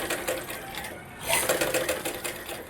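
A sewing machine stitches a seam on a lining blouse in one steady, close run of rapid mechanical clatter, lasting under three seconds.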